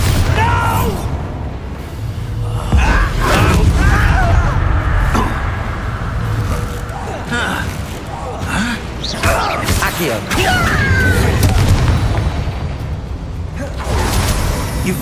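Explosive Bombarda spell blasts in Hogwarts Legacy combat, several dull booms and bursts mixed with clanking mechanisms and creaks, loud and close, with a voice talking over parts of it.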